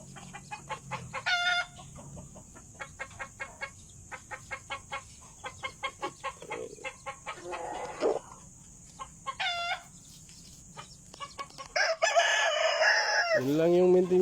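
Backyard gamefowl rooster crowing and clucking nearby, with bursts of clucks and calls and a full crow near the end, over a steady high insect-like hum.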